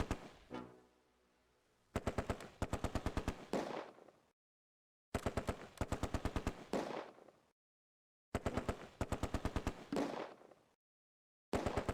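Gunfire from the wargame Close Combat: A Bridge Too Far, Oosterbeek landing zone battle: repeated bursts of rapid automatic fire, each a couple of seconds long, separated by brief silences, sharp and loud.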